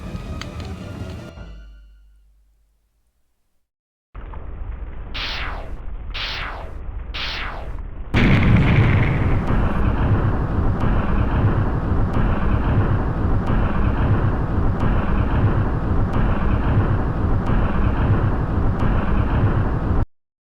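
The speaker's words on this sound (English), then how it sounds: "he's over there setting the house on fire" A house set ablaze in the video game 6 Days A Sacrifice: three rising whooshes, then a loud, steady roaring rumble of fire that fills the rest of the stretch, with no talking.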